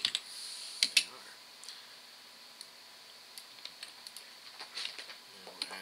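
Light keystrokes patter quietly on a computer keyboard as text is typed, scattered soft clicks with a few sharper taps, close and low in level.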